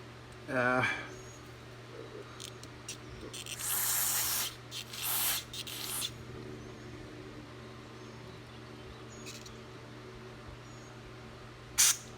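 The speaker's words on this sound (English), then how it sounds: "Just giving it a quick spray out." Short hissing bursts of aerosol carburetor cleaner sprayed into a Troy-Bilt carburetor, a few blasts in a row, over low background hum and faint handling noises.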